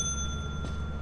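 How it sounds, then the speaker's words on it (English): A bell struck in a video game rings out as a sustained, bright metallic tone that holds steady, with a faint tap near the end. "new rule, you gotta hit the bell twice"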